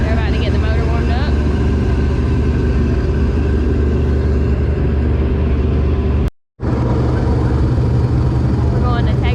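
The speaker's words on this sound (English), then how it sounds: "They're about to get the motor warmed up." A race car motor warms up at a short track on a hot, humid day, a loud, steady, close rumble with a brief cut partway through and people talking over it.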